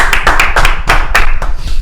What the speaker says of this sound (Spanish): Aplauso, producción.